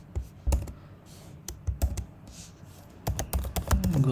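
Python code is typed on a computer keyboard in quick, uneven clusters of close, crisp keystrokes with short pauses between bursts.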